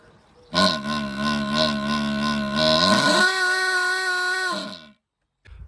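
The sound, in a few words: didgeridoo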